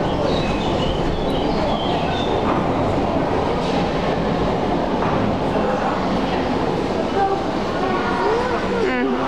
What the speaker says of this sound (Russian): Второй вагон вон едет к нам.